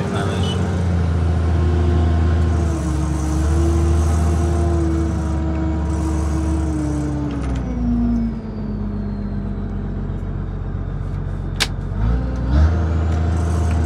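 A Bucher CityCat 5000 street sweeper runs with a steady, loud engine drone and brush and suction whir, with a slight pitch shift midway and a short mechanical hiss near the end.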